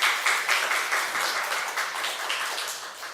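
A church congregation gathered for a Sunday morning service claps together, a dense, even round of applause from many hands that lasts about three seconds, moderately loud and fading slightly toward the end.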